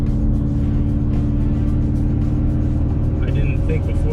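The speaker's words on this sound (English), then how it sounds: "It really is amazing how used to car noises you get." A steady, loud low rumble of a 2012 Subaru Forester driving, with road and engine noise holding evenly throughout and faint muffled sounds on top.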